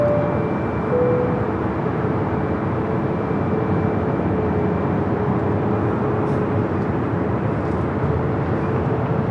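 A KLM airliner crosses runway 24 left at LAX, heard as a loud, constant engine roar and rumble with faint steady tonal whines layered through it. No voices are heard over the noise.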